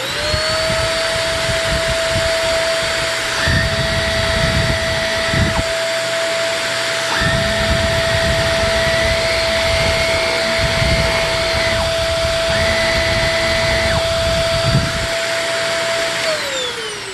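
A Shark NV22 upright vacuum cleaner runs loudly with a steady high motor whine after a brushroll bearing replacement, its pitch dipping and recovering as lower rumbling bursts come and go, then winding down at the end.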